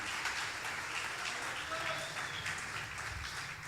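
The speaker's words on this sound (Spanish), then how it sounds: "Dale un aplauso al Señor." Faint, distant applause from a church congregation at a Spanish-language service, a soft continuous patter of many hands lasting a few seconds, with voices mixed in.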